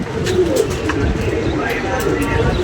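Several pigeons coo softly in a low, continuous murmur, with scattered flutters and faint background chatter.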